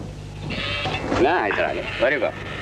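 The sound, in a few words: goat bleating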